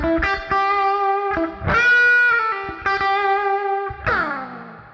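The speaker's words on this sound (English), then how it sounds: "we also have the bridge pickup, and it sounds something like this" Maybach Marilyn electric guitar played through its bridge pickup with effects, a bright, distorted tone ringing out in a few sustained chords and notes with short pauses between them, up close and alone.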